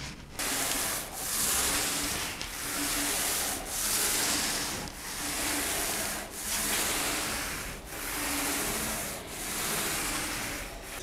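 Varnish being rubbed by hand onto a small wooden workbench, a steady back-and-forth swishing rub in about eight even strokes, close and moderately loud with no talking.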